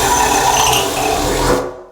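A hole punch cutting into a kitchen sink during cabinet installation, a continuous harsh grinding scrape that ends abruptly near the end.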